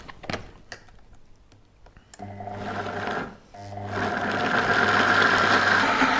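A blender purees cashew nuts with added liquid, starting with short clicks and bursts, then a loud steady motor whir that dips briefly and returns stronger and continuous, no talk.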